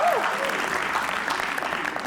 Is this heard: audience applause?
yes